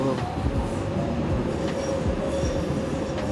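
A DLR light-rail train rumbles steadily up close, with wheel squeal and faint rhythmic clatter over the tracks, no talk over it.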